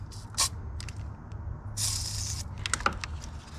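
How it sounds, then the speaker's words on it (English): A few short hissing bursts of silicone spray on tight car hoses, the longest lasting about half a second, over a low steady hum with faint clicks. "for those tight hoses, silicone spray goes a long way"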